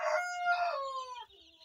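A rooster crows once, loud and near, its drawn-out call falling away at the end, with faint clucking of chickens of improved breeds such as Kenbro and Kuroiler beneath it.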